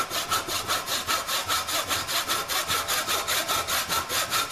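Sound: sawing MDF board

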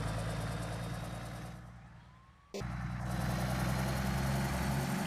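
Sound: bus engine in video game Bus Simulator Indonesia

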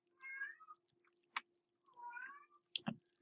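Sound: cat in heat meowing

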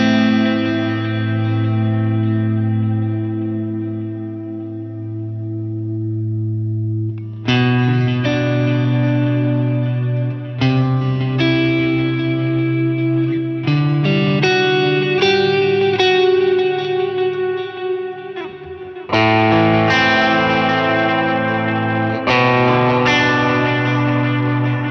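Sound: guitar with stereo dual delay and reverb

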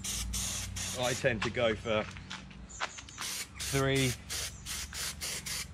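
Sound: spray adhesive sprayed onto a van panel

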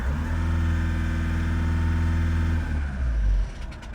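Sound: car engine revving with jerks, worn flywheel

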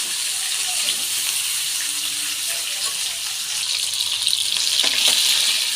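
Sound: frying and stirring in a pan

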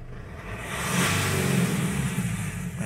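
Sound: Mitsubishi L200 engine revving

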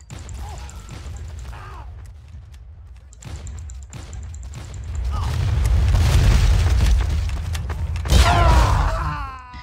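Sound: grenade explosion in Team Fortress 2 video game

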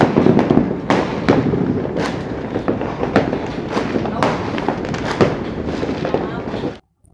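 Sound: fireworks exploding

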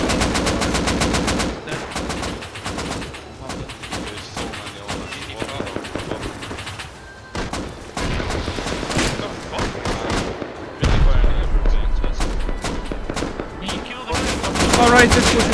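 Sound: gunfire shooting turrets in the video game Rust

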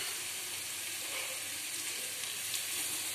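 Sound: mushrooms frying in butter with onion and capsicum

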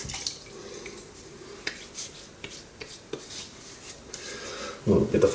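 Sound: water being added to shaving lather

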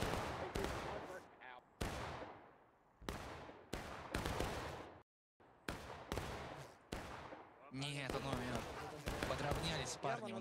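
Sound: musket volley fire in video game War of Rights

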